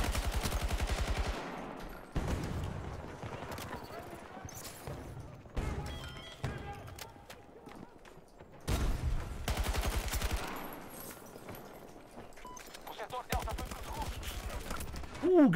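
Bursts of gunfire in the shooter game Battlefield 2042, with several loud rapid volleys separated by quieter stretches of game sound.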